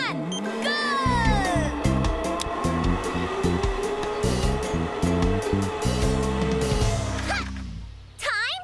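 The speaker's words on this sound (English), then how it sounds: "I don't think the blower got enough time pushing you, Newts." A blower pushes a jet-powered zipline trike in a cartoon, giving a steady rushing roar with rhythmic pulsing throughout, mixed with whooping, swooping cartoon voices and sound effects, and ending with a short dip and a final burst.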